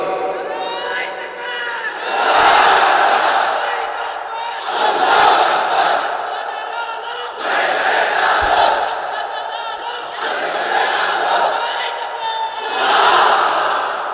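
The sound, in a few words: crowd loudly shouting the takbir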